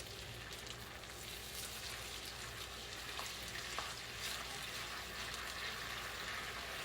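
Garlic butter chicken simmers in a pan with chicken broth, giving a steady, fairly quiet sizzling and bubbling hiss with occasional soft pops and no talking.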